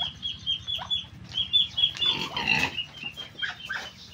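Pigs on a rural farm in a quiet provincial area grunt and snort repeatedly at close range, mixed with clucking chickens and other fowl.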